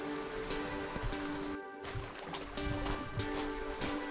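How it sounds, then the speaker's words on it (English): Small waterfall in Coyote Gulch, a sandstone canyon: steady broadband splashing and rushing water, fairly close and continuous, with a brief dip partway through. "There's a little waterfall down there."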